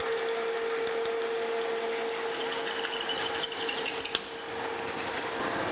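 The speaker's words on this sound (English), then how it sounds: "We're drilling a 13/16 hole now." A 13/16 drill bit cuts a hole through metal during machining of a flat belt pulley on a metal planer restoration, a steady grinding rasp with a constant machine hum and a few sharp ticks near the end, no talking.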